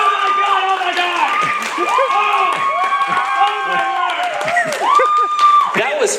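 Children in a school audience shout and cheer at a comics challenge, excited voices overlapping loudly and continuously with rising whoops and shrieks throughout.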